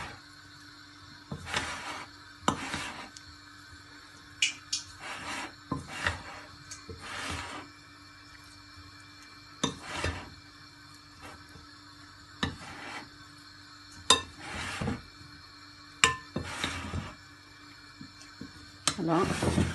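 Fried chicken noodles being mixed in a pan: quiet, irregular scraping and rubbing strokes, each short and separated by brief pauses, close by.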